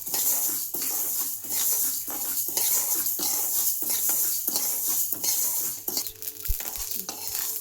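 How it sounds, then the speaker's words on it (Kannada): Ingredients for mango pickle roast in a pan over a low flame, giving a continuous close crackling sizzle with regular scraping stirs and an occasional clink of a utensil. "ನೋಡ್ರಿ ಈ ರೀತಿ ಇವು ಚಟಪಟ ಸಿಡಿಬೇಕು ನೋಡ್ರಿ ಫ್ರೆಂಡ್ಸ"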